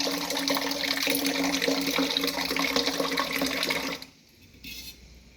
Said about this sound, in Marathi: याच्यातच पाणी टाकू गाइस